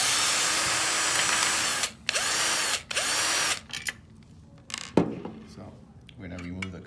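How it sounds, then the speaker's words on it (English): Powered screwdriver whirring in several loud bursts with short pauses between, backing screws out of a TownSteel e-Genius smart lock during latch bolt replacement, followed by light metallic clinks. "So I'm going to use a screwdriver, take the screw and the bottom one as well."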